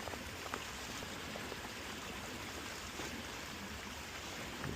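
Stream water rushing steadily through a trail water crossing, a constant soft wash of babbling and splashing, fairly close and uninterrupted, with no voices.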